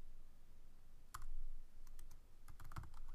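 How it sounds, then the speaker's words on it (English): Keys tapped on a computer keyboard while typing a name into a PHP mail form, a few scattered clicks and short bursts against quiet room noise, no talking. "I'll type in my name"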